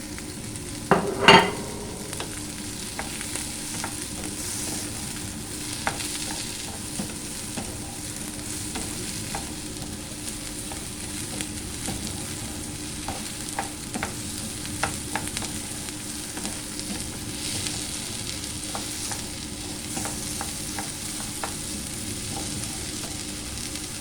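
Tomato frying in a pan on medium flame for coconut mint chutney, a steady soft sizzle with scattered stirring clicks and a sharper clatter near the start, no talking.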